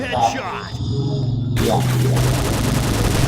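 Automatic gunfire in a first-person shooter video game, loud rattling bursts running under excited talk from a player.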